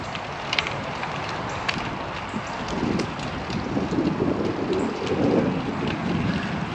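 Strong southeast wind of about 22 mph with 33 mph gusts roaring across the microphone during a bike ride on a Linsky R300, a constant heavy buffeting rumble that swells in gusts.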